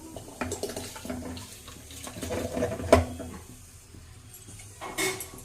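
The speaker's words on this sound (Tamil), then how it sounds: "அரிசி தண்ணி கொதிக்குது, அரிசியை போட்டுக்கலாம்." Rice water bubbles and gurgles as it boils in a pot, with a few metallic clinks of utensils against the rim, moderately close and fairly quiet.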